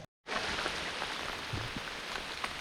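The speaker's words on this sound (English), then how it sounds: "It's still raining out." Rain falls steadily in the woods along the Appalachian Trail in Virginia, a continuous soft hiss of drops on leaves with a few nearer patters, no talking.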